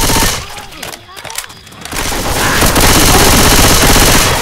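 Sustained automatic gunfire in the video game Left 4 Dead 2, loud dense rapid bursts that thin briefly then resume as a continuous roaring volley, with voices talking underneath.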